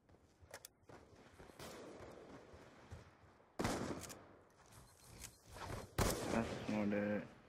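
Gunshots fired through a wall in a video game come as several sharp bursts over fainter clatter and thumps, with a voice reacting briefly.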